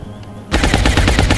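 Rapid automatic gunfire from XCOM: War Within, a burst of closely spaced loud shots that begins abruptly after a short quiet lead-in and runs to the end.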